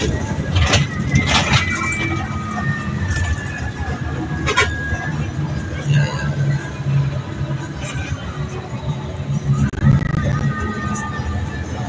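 Rumbling interior of a moving bus on a road trip in Tanza, Cavite, with a steady engine drone, rattles and passing traffic noise under occasional voices.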